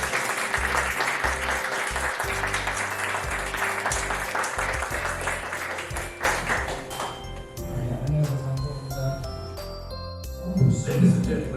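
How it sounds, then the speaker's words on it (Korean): Applause greeting the director of the animated film King of Kings at a book talk: dense clapping for about six seconds, then it drops away into music with light tapping, chimes and thuds. "장성호 감독님, 큰 박수."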